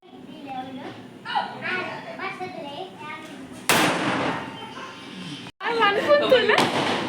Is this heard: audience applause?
no